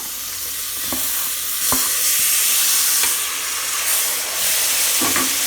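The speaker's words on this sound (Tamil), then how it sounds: "இப்போ இதில் நான் தக்காளி பழம் சேர்க்க போகிறேன்." Chopped tomatoes sizzling and frying in a pan of mutton potato curry, a steady loud hiss with several sharp clicks of a spoon stirring against the pan, no talking.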